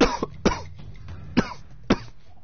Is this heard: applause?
no